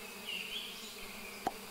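Bees buzz around freshly planted flowers, including a yellow one, in the beekeeping video game APICO, a soft steady drone that wavers faintly, with a brief sharp blip near the end.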